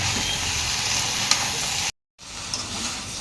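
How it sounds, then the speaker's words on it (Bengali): Fried jackfruit being stirred into braised chicken in a pan, giving a steady loud sizzle with scraping stirs, cut by a brief silent gap before the frying resumes. "এখন এঁচুড়টা চিকেনের সাথে মিশিয়ে দেব।"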